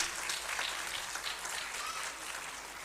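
An audience at a school talent show in an arts council hall claps steadily, a dense, moderately distant patter of applause with no speaking.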